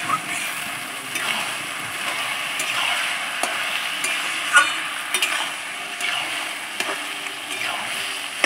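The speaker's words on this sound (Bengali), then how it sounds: "একটু তেলের মধ্যে ভালো করে ভেজে নেব।" Rice and lentils fry in a little oil with chopped ginger while being stirred for rustic khichuri, giving a soft, continuous sizzle with occasional scraping strokes, fairly quiet and close.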